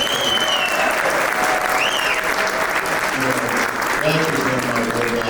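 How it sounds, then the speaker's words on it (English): Sustained applause from a large audience honoring Illinois Secretary of State Jesse White at a charity foundation event, steady dense clapping throughout with a faint voice briefly audible over it. "Can we give him another round of applause?"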